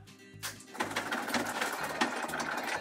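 An ice-shaving machine grinds a giant gummy worm jelly, starting with a low motor hum that gives way to a steady, pulsing whir and gritty shaving.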